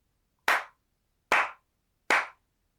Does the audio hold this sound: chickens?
no